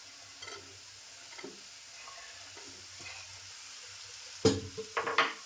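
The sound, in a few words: bell peppers added to pan, sizzling and stirred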